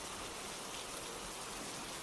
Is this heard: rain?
yes